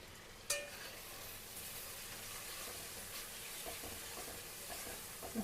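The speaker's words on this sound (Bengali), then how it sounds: "ভালো করে কষিয়ে আমরা মশলাগুলো এক এক করে অ্যাড করে দেবো" Cumin, coriander, turmeric, sugar and Kashmiri chili powder sizzle quietly with tomato paste in a pan: a faint, steady hiss opens with a sharp clink near the start, and no one speaks.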